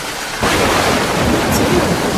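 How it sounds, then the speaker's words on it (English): Thunder rolls through a rainy forest as a loud, steady roar that bursts in after a brief quiet moment and holds for the rest of the clip. "It's the thunder."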